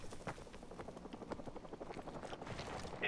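Helicopter in the Modern Warfare video game, a continuous rhythmic rotor thump with engine whine, fairly faint and steady throughout, with no talk over it.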